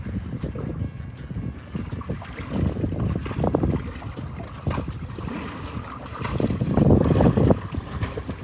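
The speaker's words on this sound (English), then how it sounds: "So some wind blew up out of nowhere out here." Gusty wind blowing across Lake Santa Fe while out boating, a rough, buffeting roar on the microphone with water slapping against the hull, swelling louder toward the end.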